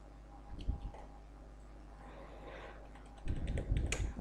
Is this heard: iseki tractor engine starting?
no